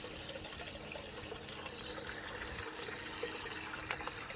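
Water trickles and gurgles steadily through the siphon of a backyard aquaponics grow bed, faint and continuous with no voices.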